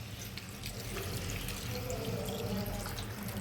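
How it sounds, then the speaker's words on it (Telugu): Water poured from a tap or vessel into a pot of spicy chicken gravy curry with tomatoes, a soft continuous splashing trickle heard close and quiet, with no talking. "తగినంత వాటర్ పోసేసుకుందాం."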